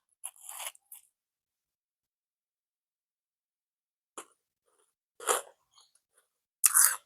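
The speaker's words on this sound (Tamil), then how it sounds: "நான் வந்து இப்போ காரா பூந்தி வந்து சாப்பிட்டு பார்க்க போறேன்" Someone close up bites and chews crunchy, spicy kara boondi snack, making sharp crackling crunches in several separate bursts with silent pauses between them, no talking.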